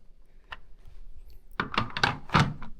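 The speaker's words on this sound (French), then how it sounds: "j'ouvre la porte." A door is opened indoors after a knock at it: a brief thump early, then a louder cluster of clunks and rattling from the latch and the door swinging, fairly close.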